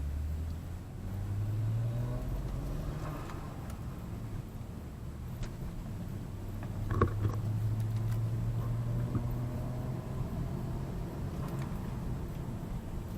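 Saab 9-3 Turbo X with a Mamba wastegate driving in fourth gear on a bumpy road, a low, steady engine hum with faint rattles and thumps from the rough surface.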